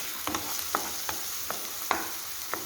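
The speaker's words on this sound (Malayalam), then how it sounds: "നമുക്കിനി സവാള ഒന്ന് നല്ലപോലെ തന്നെ ഇളക്കി കൊടുക്കാം." Onions sizzle steadily in hot oil for a soybean curry while a spatula scrapes the pan in regular strokes, about two per second, close by.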